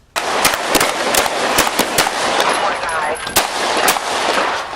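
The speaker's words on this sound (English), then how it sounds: "Officers outside the SUV fired into the back seat. Jordan fired back" Rapid gunfire from a police shootout with a suspect in an SUV, caught on dashcam: loud, dense bursts of shots cracking over and over for several seconds against a constant roar, with no pauses.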